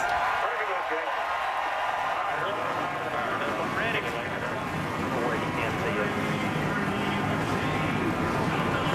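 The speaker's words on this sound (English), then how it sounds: "Gentlemen, start your engines." NASCAR Sprint Cup stock car engines fire up at Indianapolis Motor Speedway before the 2010 Brickyard 400, a broad rumbling roar that swells and holds steady beneath someone talking.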